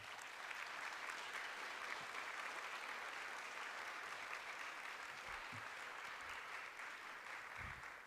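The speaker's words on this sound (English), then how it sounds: "can you please give them a round of applause?" Audience at a candidate forum applauding steadily, a dense sustained patter of clapping that holds for several seconds without a break.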